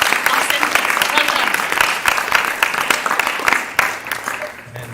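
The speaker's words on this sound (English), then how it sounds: "So another hand of applause for our centres." An audience at an Easwaramma Day celebration applauds, a steady burst of dense clapping that holds loud and then gradually tapers off.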